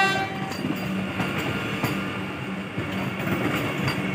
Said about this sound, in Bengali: আজিমগঞ্জ জংশনে ঢুকছে বন্দে ভারত এক্সপ্রেস।